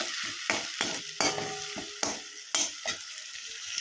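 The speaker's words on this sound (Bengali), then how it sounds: "এবার এটা লো স্টিমে একটু ভাজা ভাজা করতে হবে, পুরো গলিয়ে ফেললে হবে না।" Paneer fries slowly on low heat in a pan, with a steady sizzle broken by several sharp stirring scrapes and clicks, close and fairly loud with no voices.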